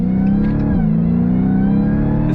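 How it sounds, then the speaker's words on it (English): A 2022 Dodge Challenger Hellcat Jailbreak's supercharged engine revs loud and close, a steady, continuous roar layered with supercharger whine, with no talking. "The sound of that supercharger is divine."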